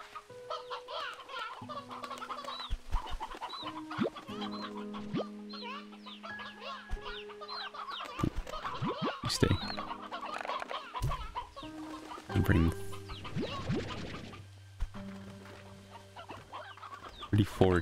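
Chickens cluck repeatedly in the video game Slime Rancher 2, a busy flock sounding near and steady over background game music and effects, with occasional talk mixed in.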